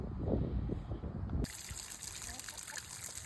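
Water from a garden hose running through an inboard/outboard boat engine during winterizing, a steady close trickle and rush of flowing water that turns into a brighter, hissing gush partway through.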